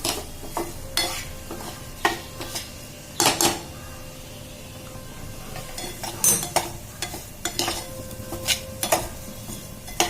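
Coloured sugar filling for modak being stirred in a pan, spoon scraping and clinking against the metal in irregular strokes over a low sizzle, close and fairly quiet with no voices.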